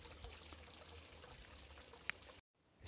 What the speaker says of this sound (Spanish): el sonido del agua relajante